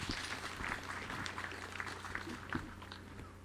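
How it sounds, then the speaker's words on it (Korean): Faint, steady applause from the audience at a 2016 Gyeongsangbuk-do provincial disaster response training briefing. It is a dense wash of clapping heard at some distance, with no speech on top. "여러분 박수를 부탁드립니다"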